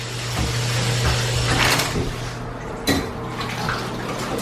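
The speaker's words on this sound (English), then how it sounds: "he drinks so much water from the tap that he burps" Steady running tap water splashing close by as a dog drinks from the tap, with faint clinks and lapping sounds over the stream.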